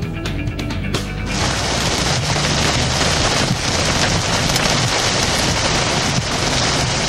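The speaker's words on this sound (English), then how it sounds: "Heavy rain pounding down on the windshield, water ponding on the roadways there." Heavy rain pounding on a car windshield, a dense, loud, unbroken roar of drumming water heard from inside the vehicle, steady throughout after a brief quieter start, with no voices.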